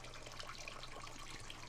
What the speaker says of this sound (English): I might have this water going just a bit fast.